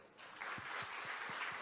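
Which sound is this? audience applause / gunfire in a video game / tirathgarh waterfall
audience applause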